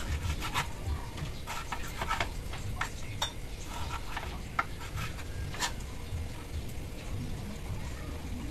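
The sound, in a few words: knife chopping seasoning ingredients for chicken liver adobo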